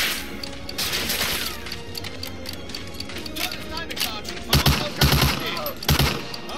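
Gunfire from a Medal of Honor Allied Assault Breakthrough battle, with bursts and sharp shots over a busy, dense combat din; louder impacts land near the end while a voice talks over it.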